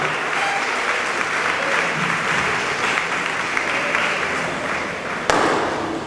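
Audience applause for the musicians at an Asti Musica 2011 concert, a dense, steady clapping from a crowd that holds at even loudness throughout, with one sharp louder clap near the end.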